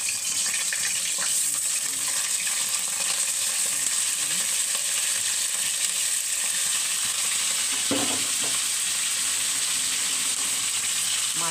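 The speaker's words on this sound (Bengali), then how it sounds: "মাছটা এখন ভাজা হতে থাকুক।" Pieces of rui fish fry in hot oil, half-cooking with a continuous, even sizzle up close and a brief rustle or splash near the eight-second mark.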